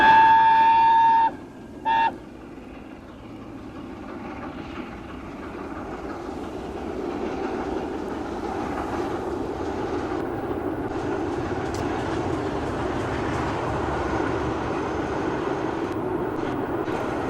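Mallard steam locomotive on the line, filmed in 1988: a loud, sustained roar and rushing rumble of the passing train, with a brief whistle-like tone at the start, no talking.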